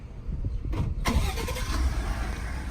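A Ford F-150 engine cranks and catches by remote start, then settles into a steady rumbling idle nearby, with no voices.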